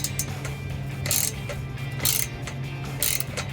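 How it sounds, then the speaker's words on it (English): A ratchet wrench tightens a 15 mm nut on a K&N single exhaust system for a 2017-2020 Ford F-150 5.0L, making three rapid clicking bursts at about one-second intervals, close and crisp over a low steady hum, with no talk. "Take ratchet wrench. Tighten that down just a little bit."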